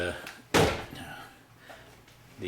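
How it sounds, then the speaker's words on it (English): Trailer cabinet doors on sliders being moved, a single close sliding thud followed by faint rattles, with someone talking around it. "doors are on sliders up top, and I got all the drawers open"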